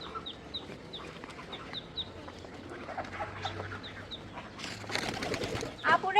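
Chickens and ducks on a small farm make steady bird calls and clucks over a low background hum, with brief louder rustling bursts near the end.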